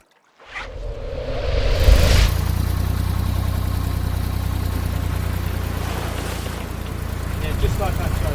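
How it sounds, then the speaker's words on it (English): A high-pressure hose starts up while a boat is cleaned, a loud steady hiss over a low engine-like rumble that continues unbroken, with people talking in places. "can I please have a go with the high pressure hose?"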